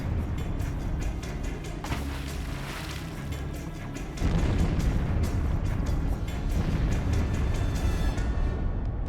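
Deep, muffled booms and rumbling roar of depth-charge explosions heard underwater near a submarine, dense and continuous with a louder surge midway.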